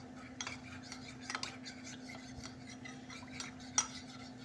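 Cornflour and water being stirred into a smooth mixture for chilli chicken gravy, heard as quiet, irregular scraping and light clinks of a utensil against a bowl over a steady low hum, with one sharper tap near the end.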